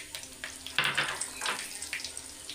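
Black cumin seeds and green and dried chillies fry in hot oil in a home kitchen. A close sizzle swells in bursts as they are stirred, and soft scraping sounds come through between them.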